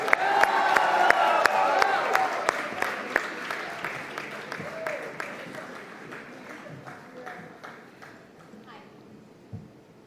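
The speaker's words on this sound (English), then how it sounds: "Ladies and gentlemen, please put your hands together to welcome on stage the one and only Alia" An audience applauds and cheers as Alia Bhatt comes on stage at a business awards evening in Mumbai. A loud burst of crowd clapping and whoops opens, then slowly thins to scattered individual claps near the end.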